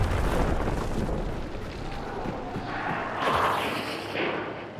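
Grenades going off in Hunt: Showdown, a dense, loud rumbling blast wash that stays heavy throughout, with a couple of fresh bursts swelling near the end.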